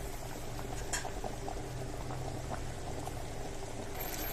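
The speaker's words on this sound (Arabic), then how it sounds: "نسيبه يغلي بقى كده شويه وبعدين نوطي عليه" Egyptian rice with vermicelli simmers in a pot, a soft, steady bubbling with faint pops, close and alone.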